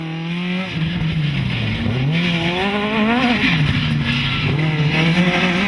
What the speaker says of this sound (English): That's some hard brakes.